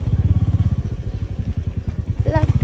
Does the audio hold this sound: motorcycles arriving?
yes